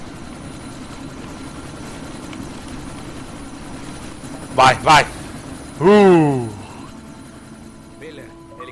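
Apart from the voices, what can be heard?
helicopter in the video game Deus Ex: Mankind Divided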